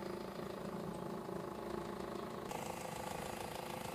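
Car engine idling with a noisy rattle from a missing clamp, a steady mid-low hum that stays constant throughout, close and fairly loud with no talk over it.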